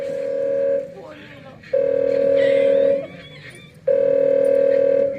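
During a stage play, a telephone gives steady dial-tone bursts in a repeating on-off pattern, three loud tones separated by short gaps in which voices can be heard.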